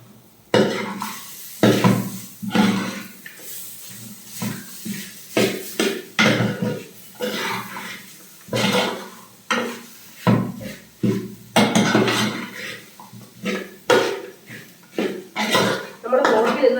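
Boiled pork being stirred into fried onions and chillies in a pan for pork ularthiyathu, with repeated clattering scrapes of a spoon against the pan in uneven bursts, close and fairly loud, with talking throughout.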